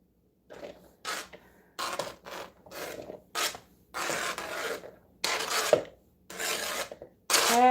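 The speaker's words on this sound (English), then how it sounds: "You scrape with the back part of your knife." Mushrooms are scraped with the back of a kitchen knife in short, rasping strokes, about ten separate scrapes in an irregular rhythm, close and fairly quiet with silence between them.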